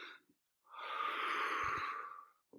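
A person takes one long, heavy breath, a breathy rushing exhale that swells and fades, with short breathy bits before and after and no speech.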